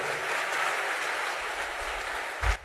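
A congregation at a Sunday church service claps loudly and steadily, a dense continuous wash of applause that swells slightly near the end.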